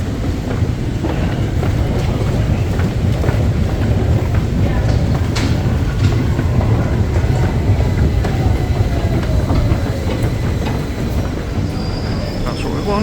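London Underground train running deep below ground on a northbound line, a loud continuous rumble of wheels and carriage noise with faint clicks and squeals throughout, voices talking under it.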